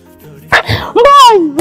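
Dog barks and yelping, whining cries ring out loud and close in a Christian drama film, starting with a sharp bark and then a long, wavering howl-like whine.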